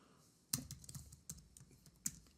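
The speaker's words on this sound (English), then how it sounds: "if I type https www" A computer keyboard being typed on to enter a web address: a handful of irregular, close key clicks with a couple of sharper taps and no voices.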